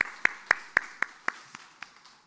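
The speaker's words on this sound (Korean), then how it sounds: "우리 감사의 박수를 하도록 하겠습니다." A church congregation claps in thanks during a Sunday service: about nine distinct, evenly spaced claps in a steady rhythm, fairly faint and gradually fading, with no talk.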